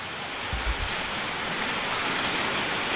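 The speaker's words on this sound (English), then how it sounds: "It's raining harder now," Rain falls steadily on an outdoor work area during a flatbed build for a 2006 Chevy Kodiak, making a dense, even hiss with a brief low thump early on and no talk.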